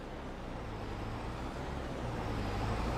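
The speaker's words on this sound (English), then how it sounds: "Wait for this truck to come back, just about hear him." A truck drives in a farming video game on a large harvest map, its steady low engine rumble continuous and fairly close, rising slightly in loudness as it approaches, with no talk over it.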